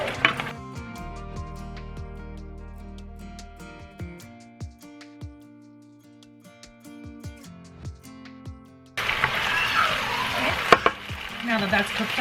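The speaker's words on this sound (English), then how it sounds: "Really let that alcohol burn out and deglaze that pan." Port wine is added to a roasted duck pan to deglaze it, bursting into a loud, close sizzle after a stretch of quiet tonal music.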